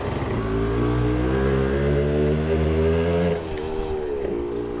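A small motorcycle engine revs steadily and loudly up close, holding a rising tone before dropping slightly near the end; no voices.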